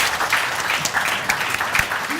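Applause for women at a business women awards livestream, a steady round of clapping lasting a couple of seconds with a faint crowd murmur.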